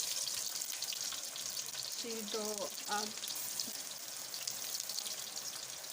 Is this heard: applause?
no